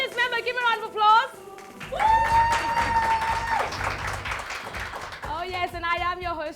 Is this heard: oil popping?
no